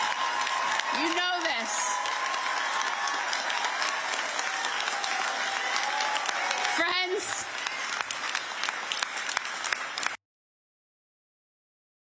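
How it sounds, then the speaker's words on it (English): A political rally crowd claps and cheers steadily for a lieutenant governor, loud and sustained, with a speaker's voice breaking in twice over the noise before it cuts off abruptly. "So ICE out, that got the crowd cheering, standing up, and clapping"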